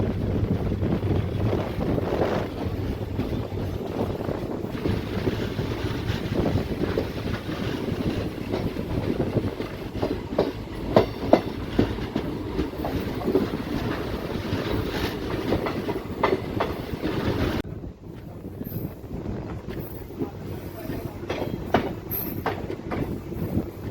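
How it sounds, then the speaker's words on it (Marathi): Special train 07032 with ICF coaches rolls steadily away from Sattenapalli station, its wheels giving a continuous clickety-clack rumble with wind buffeting the microphone. The noise drops slightly near the end and then carries on. "1 मिनिटाच्या स्टॉपनंतर सत्तेनपल्ली रेल्वे स्टेशनवरून आपली ट्रेन निघालेली"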